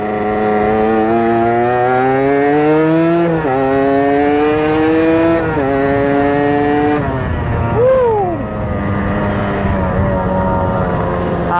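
Suzuki Satria two-stroke motorcycle riding at speed, its loud, buzzing engine tone climbing steadily through gears with brief pitch drops at each shift, close and continuous, with wind rush underneath.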